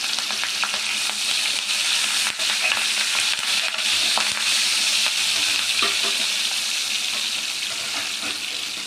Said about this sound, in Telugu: ఒక 1/2 స్పూన్ ఇంగువ, ఇలా ఎండుమిర్చి కూడా ఫ్రై చేసేసుకోవాలండి